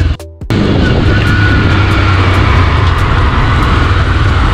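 A TVS Raider 125cc motorcycle rides along with a steady, loud engine drone and wind rumble that begins after a brief moment of quiet at the start.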